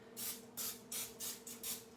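A spray can of oil mists over pastry sheets being layered for quiche, giving five short hissing bursts in a steady rhythm, close and fairly soft.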